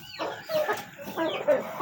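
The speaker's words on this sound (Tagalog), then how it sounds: "Ayan yung ating mga manok" Chickens in a backyard coop on a Sunday evening give a few short clucking calls in two quick clusters, close and moderately loud.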